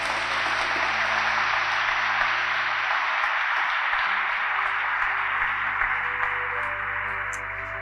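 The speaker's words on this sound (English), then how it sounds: "Let's give them a clap as well." A graduation ceremony audience claps together in a steady, dense wash of applause that holds at an even level from start to finish, with no voices over it.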